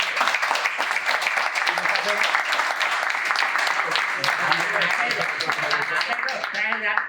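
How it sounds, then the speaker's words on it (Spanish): Audience applause at a bullfighting seminar, a dense, steady burst of many hands clapping that continues for several seconds, with voices faintly mixed in. "Un aplauso para Alberto."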